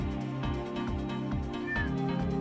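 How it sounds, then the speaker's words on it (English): A cat perched on a person's shoulders gives a soft, close meow over a steady low background hum, with faint bumps of movement. "typical bloody cat"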